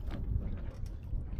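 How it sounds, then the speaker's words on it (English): Wind buffets the microphone in low rumbling gusts, loud and close, with outdoor noise faintly beneath. "It's really windy out here."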